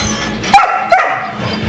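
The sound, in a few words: dog barking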